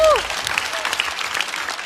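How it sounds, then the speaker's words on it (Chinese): A stand-up comedy show's studio audience bursts into loud, dense applause for a comedian, a brief full wash of clapping opening with a short tonal sweep. "再次掌声送给高寒。"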